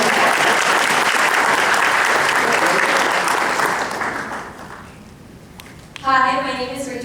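Audience applause at a university event, a dense wash of clapping for several seconds that dies away, followed by a voice starting to speak.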